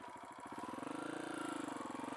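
A Kawasaki KLX170 motorcycle engine, freshly rebuilt with a big-bore top end and running in, idles at about 1500 RPM: a quick, even putter with a slightly tappety rattle, close and steady throughout.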